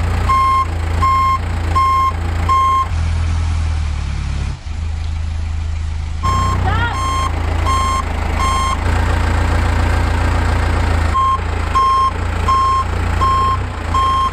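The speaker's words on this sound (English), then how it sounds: "I'm not really comfortable driving it like too far backwards down the hill around the fire hydrants" A forklift backing up near a house sounds steady, loud, evenly spaced reversing beeps over a rumbling idling engine, with the beeping stopping for a few seconds midway before resuming.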